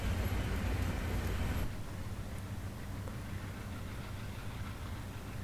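Diesel engine of a CSX C30-7 locomotive in Train Simulator Classic, a steady low rumbling drone that holds constant, then drops slightly in level partway through, with no talking.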